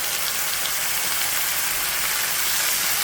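Rotel poured over sautéed onions in a hot pan, giving a steady, loud broadband sizzle and hiss that fills the whole moment without a break, with no talking.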